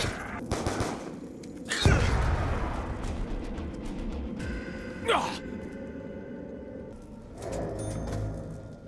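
Gunfire in Call of Duty Zombies, with bursts of shots hitting zombies amid game noise, a louder impact near the start and scattered effects throughout, mixed with groaning and game sounds at moderate distance.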